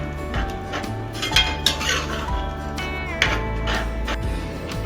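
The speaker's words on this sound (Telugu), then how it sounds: "చింతపండు గుజ్జులో 1 కప్పు వాటర్ అయితే కలిపి వేసుకున్నానండి" Tamarind pulp mixed with water is stirred in a metal pot for egg curry, with irregular scraping and clinking of a spoon against the vessel, close by, with no speech.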